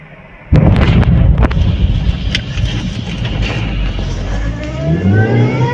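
A liquefied petroleum gas tanker truck explodes with a sudden loud blast, followed by a roaring, rumbling aftermath with sharp crackles and pops that stays heavy and sustained to the end.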